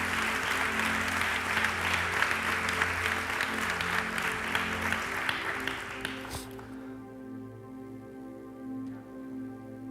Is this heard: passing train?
no